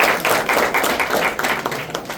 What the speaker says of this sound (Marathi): एकदा टाळ्या